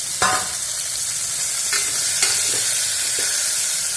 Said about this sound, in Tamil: கட் பண்ணி வச்சுருக்கிற வெண்டைக்காயோடு சேர்த்து கொஞ்சம் நேரம் வதக்கணும்.